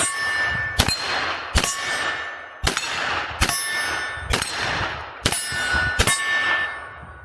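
Seven sharp metallic clangs of 10mm bullets from a S&W FPC carbine striking a steel target, evenly spaced about a second apart, each ringing briefly over steady outdoor background noise at a shooting range.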